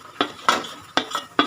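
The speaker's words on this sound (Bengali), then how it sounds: "খুব ভালো করে চিনিটা মেল্ট হওয়া পর্যন্ত ছানাটাকে নেড়ে চেড়ে নিতে হবে।" A utensil scrapes and knocks against a frying pan while chhana with sugar is stirred for sandesh, four or five quick close clinks in an uneven rhythm.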